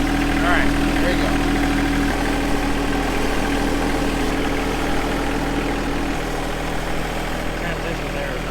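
A John Deere 2025R compact tractor engine runs at a steady mid-pitched drone throughout, close and continuous, with a person talking over it.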